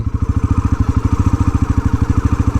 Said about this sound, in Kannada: N S four hundred ride ಮಾಡೋ ಚಾನ್ಸ್ ಸಿಕ್ಕ ನಂಗೆ ಇವತ್ತು